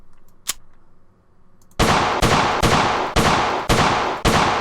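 Full-clip burst of gunfire from the World of Guns video game: a single shot, a short pause, then about seven loud, evenly spaced shots in quick succession, each ringing out with a sharp crack.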